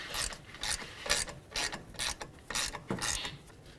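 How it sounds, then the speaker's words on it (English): Ratcheting clicks come in short bursts as mounting bolts are snugged on a 2009–2020 Dodge Journey rear wheel hub, close and fairly quiet, with pauses between strokes. "Once both of your mounting bolts are started, snug them up"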